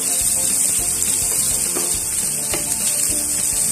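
Eggplant frying in a pan of oil, a steady close sizzle with soft clinks of stirring and no voices.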